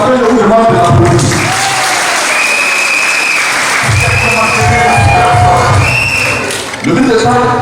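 Loud audience applause with cheering at a political mobilization rally, dense continuous clapping and shouts from a large crowd, with voices mixed in throughout.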